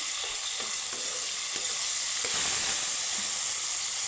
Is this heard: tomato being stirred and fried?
yes